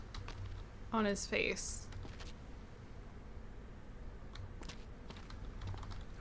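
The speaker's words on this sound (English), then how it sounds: "You can tell I do not use mouse and keyboard" Soft, quick clicking of computer keyboard keys and a mouse goes on through the clip, faint and close, during a zombie quarantine game, with a brief spoken remark near the start over the typing.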